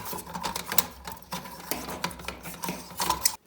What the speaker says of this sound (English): this pigtail with an Edison base comes with the light. We're going to screw it into the socket.